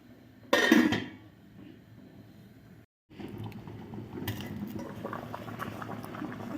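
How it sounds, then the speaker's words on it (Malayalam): Pumpkin pieces cook in a double boiler: a brief lid or pot clatter, a short pause, then steady, close bubbling and simmering that keeps building in the quiet. "ഇങ്ങനെ ഡബിൾ ബോയിലിംഗ് പ്രോസസ്സിലൂടെ നമുക്ക് ഇതൊന്ന് വേവിച്ചെടുക്കാം"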